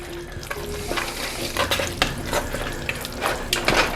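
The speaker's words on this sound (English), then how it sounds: "Give that a good stir in." A spoon stirring clams into a pot of New England clam chowder, wet scraping and sloshing with a few soft clinks against the pot, close and steady with a faint simmering hiss underneath.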